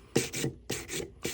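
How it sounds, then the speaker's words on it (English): Quick back-and-forth strokes of 320 grit sandpaper against a metal ring make close, soft raspy rubs in a rhythm of five short swipes. "basically I'm sanding out my file marks"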